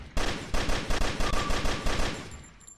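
Rapid bursts of gunfire ring out in an indie video game, a fast, evenly spaced volley of close, sharp shots that rattles on for a couple of seconds before trailing off, with no talking.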